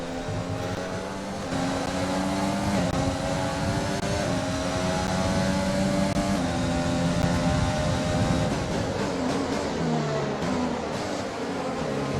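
A Formula 1 race car engine in the F1 2020 racing game drones loud and steady, its pitch climbing and dropping through gear changes as the car laps the circuit, with no talking.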